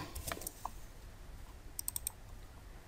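A handful of quick keyboard taps as a SUMIFS formula is entered in a spreadsheet, with a few scattered keystrokes followed by a tight cluster of four clicks, faint against a quiet background.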